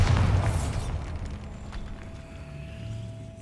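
A Bombarda spell explodes in Hogwarts Legacy inside a decaying catacomb, one loud close boom at the start that fades into a low lingering rumble.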